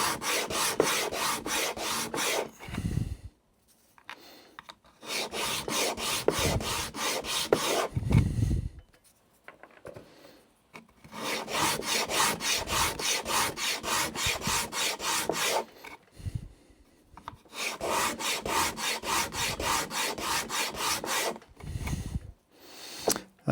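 Steady, loud abrasive rubbing strips glued felt off a wooden pallet in long rasping passes, broken by short pauses and a few dull knocks between strokes.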